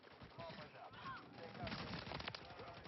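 Dense rapid-fire gunfire rattles through a Call of Duty Modern Warfare 3 multiplayer match, with bursts growing heavier toward the end amid game noise and faint voices.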